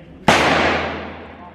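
A single sharp Taurus G3C pistol shot at an indoor range, a loud close crack followed by a long reverberant decay in the enclosed space.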